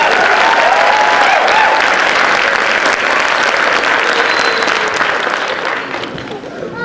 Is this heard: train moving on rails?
no